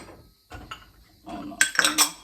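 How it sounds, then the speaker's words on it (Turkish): Dishes and cutlery clink and clatter as a dishwasher is emptied at home. The clatter comes close and in short bursts, getting louder and more clustered toward the end. "Şimdi şu bulaşık makinesini boşaltayım"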